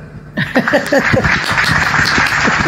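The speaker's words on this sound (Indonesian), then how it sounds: "Pasien berikutnya, tepuk tangan dulu dong." An audience at an Islamic religious talk in Indonesia breaks into scattered, close applause that quickly fills the room and carries on steadily to the end, with a faint murmur of voices underneath.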